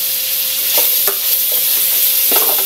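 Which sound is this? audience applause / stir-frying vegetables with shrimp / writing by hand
stir-frying vegetables with shrimp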